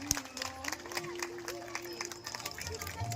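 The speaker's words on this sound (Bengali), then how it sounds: "Clap your hands till she reaches near the stage." Audience at a public event in Sorberia clapping to welcome Indian politician Chandrima Bhattacharya as she walks to the stage, a steady wash of applause blended with crowd murmur and a voice over a loudspeaker.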